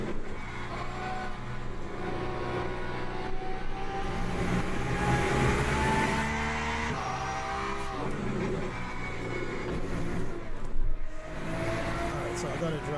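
Porsche race car engine in the Le Mans Ultimate video game at Monza's Curva Grande, a steady loud drone that shifts pitch through the gears, with someone talking over it throughout.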